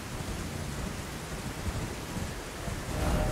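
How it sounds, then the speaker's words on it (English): Rain in the video game Elden Ring, a steady broadband hiss of falling rain with low rumbling undertones, continuous and fairly quiet throughout, swelling slightly louder near the end, with no voices. "Oh, it's raining."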